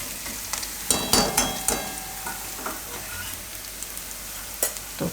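Spices dropped onto onions frying in hot oil for a Gujarati ivy gourd dish crackle and sizzle up close, with a burst of spoon clinks and scrapes early on, then a softer, steady fry.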